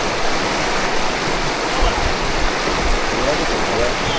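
A flowing river gives off a steady, loud rush of broadband water noise that holds evenly for the whole stretch without a break.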